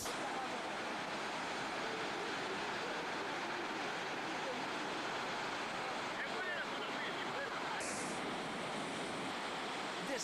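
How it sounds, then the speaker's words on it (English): Floodwater rapids roar through a small village in France, a continuous loud broadband rush of torrential water with no pauses, carrying on steadily throughout. "Floodwaters sweep away everything in its path."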